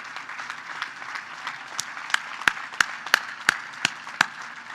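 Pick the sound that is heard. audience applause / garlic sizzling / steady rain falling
audience applause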